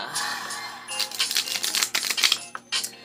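Tarot cards shuffled by hand during a reading, a crisp run of rapid riffling clicks and flutters in quick bursts, close and fairly loud, with a brief pause near the end.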